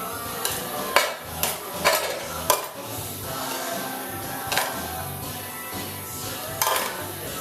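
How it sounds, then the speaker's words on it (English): Spaghetti with sauce being tossed in a pot or serving dish for homemade meatballs: irregular clanks and taps of utensils against cookware over soft, wet stirring, with no talking. "And we'll toss it so it doesn't all stick together."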